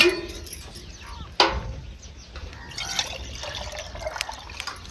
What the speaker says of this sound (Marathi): आणि परत एक वेळ आपल्याला ह्याच्यात पाणी ओतायचंय